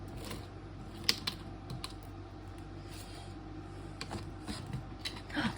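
Scraping spread paste off a page in an art journal, a faint, continuous scratchy rasp with a few sharp ticks and clicks, close and quiet, no talk.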